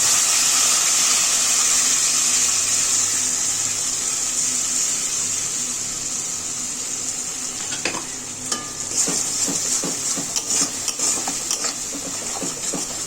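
Spice paste goes into a pot of hot oil for a Bengali potol (pointed gourd) curry, raising a loud, steady broadband sizzle that runs throughout, with scraping stirring clatter joining near the end.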